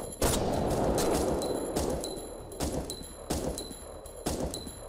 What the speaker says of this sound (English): why are these gunshots so off?